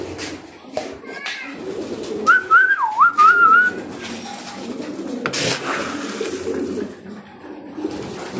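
Racing pigeons cooing as they feed, a low murmur running under a clear, rising-and-falling whistle-like call near the middle, with a faint voice in the background.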